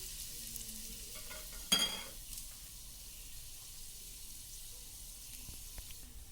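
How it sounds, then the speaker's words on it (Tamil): Whole cinnamon, cloves and bay leaf drop into hot oil for mutton biryani, giving a quiet, steady sizzle with a brief sharp clatter as they go in; no talking. "பட்டை கிராம்பு பிரிஞ்சி இலையெல்லாம் எடுத்து வச்சுருக்கோம் அதில் அந்த எண்ணெயில் போட்டுக்கலாம்"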